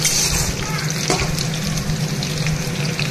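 Spice masala tipped into onions, dried chilli and bay leaf frying in a pan for jackfruit curry, a steady close sizzle with a brief clatter and stirring scrapes, no one talking.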